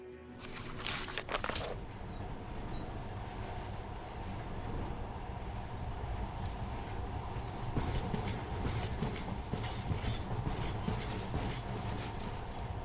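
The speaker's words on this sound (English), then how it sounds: "In the past, trains were ordinary things, but now this monorail seems magic, doesn't it?" A monorail train in the video game Metro Last Light runs with a steady, dense rolling rumble and rhythmic rail clatter that continues unbroken and close throughout, with no talk over it.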